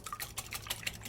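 A whisk beating wet ingredients of egg, lemon zest, vanilla and almond extract in a bowl for biscotti, quick soft rhythmic swishes and light taps against the bowl, faint and close.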